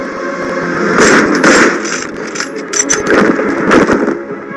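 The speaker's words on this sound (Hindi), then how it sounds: "2 गोलियां क्यों चलाई?" Loud, sharp gunshot bursts crack out over a noisy, echoing background, with a brief lull between the blasts.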